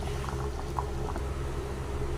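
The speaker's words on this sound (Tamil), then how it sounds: "தக்காளி குழம்பு நல்லா கொதிக்குது" A pot of tomato curry simmers steadily, with a low continuous bubbling and faint pops over a constant background hum.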